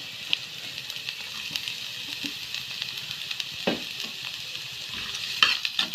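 Chopped leeks being stir-fried in a pan, with a soft continuous sizzle broken by scraping stirs and light clinks, close and on its own.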